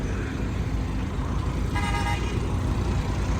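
Traffic jam on Shorkot Road in Pakistan, a constant loud rumble of nearby vehicle engines with a single short car horn toot sounding partway through.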